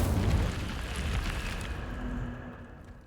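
An Incendio fire spell cast in Hogwarts Legacy lets out a loud, roaring fiery burst with a deep rumble, which gradually fades over about three seconds with no voices.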